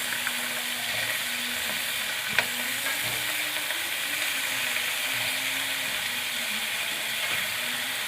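Chicken wings fry in a pan with a steady, close sizzle and fine crackle. A few faint stirring clicks sit under the hiss, and no one speaks.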